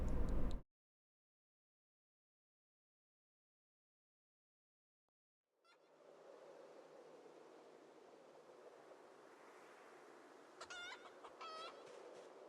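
Chicken clucking in the zombie survival game Project Zomboid, a steady run of soft clucks and fluttery calls after a brief silence, fairly close, with a few sharper chirpy calls near the end.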